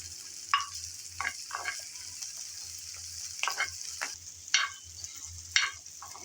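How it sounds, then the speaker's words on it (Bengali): Onion and garlic frying until light brown, a steady hissing sizzle broken by repeated spatula scrapes and stirs at irregular intervals, close and moderately loud. "কিছুক্ষণ নেড়ে চেড়ে সবগুলো উপকরণ হালকা ব্রাউন কালার করে ভেজে নিলাম।"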